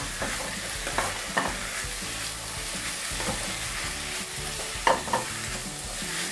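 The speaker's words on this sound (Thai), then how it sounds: "เดี๋ยวเราจะใส่หมูสามชั้นลงไปเลยค่ะ เดี๋ยวเราจะผัดแห้งๆก่อนนะคะเพื่อรีดน้ำมันออกมา" Pork belly stir-frying with shallots in a hot pan, a loud continuous sizzle under repeated scraping stirs and a couple of sharper spatula knocks, close and with no talking.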